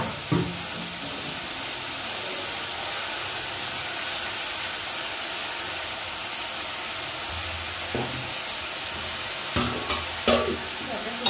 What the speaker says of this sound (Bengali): মশলা দিয়ে একবারে ভাজা হয়ে যাচ্ছে